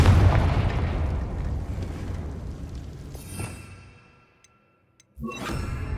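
Confringo blasting spell in Hogwarts Legacy, one big explosion that starts loud and decays with a rumbling tail into near silence, followed by a sharp new burst near the end.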